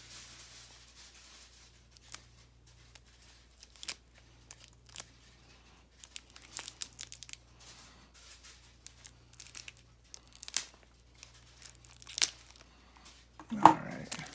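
Scissors snip and crinkle through plastic toy packaging in sporadic sharp clicks and rustles, close to the microphone and quiet between bursts, with a louder crackle near the end.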